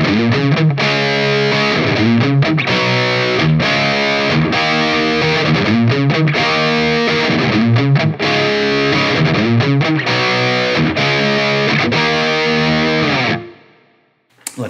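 Distorted electric guitar through a Line 6 Helix amp modeler, with no compression, plays a repeating rhythmic riff with a chorus-like shimmer, loud and continuous, then stops abruptly near the end.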